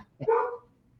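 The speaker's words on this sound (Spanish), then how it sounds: "sí empezó a ladrar" A single dog bark, loud and close, one sharp call that fades quickly into a quiet room.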